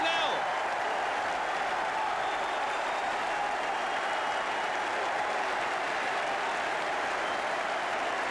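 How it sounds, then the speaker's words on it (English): A football crowd cheers and applauds after a penalty goal in a Brighton match, a loud, steady roar of clapping and shouting that fills the whole stretch without a break. "The crowd going mad."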